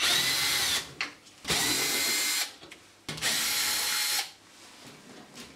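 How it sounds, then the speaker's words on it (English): A cordless drill running in reverse with a socket, spinning out hexagon-head screws from the top of a Candy/Hoover washing machine: three loud, close whirring bursts of a few seconds each, separated by short gaps, with no talk. "To do that, I'm going to use this socket in a cordless drill."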